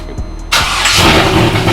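A cammed Corvette engine cranks briefly with a couple of starter turns, then fires and catches into a loud, rough, lumpy idle right up close on a driveway.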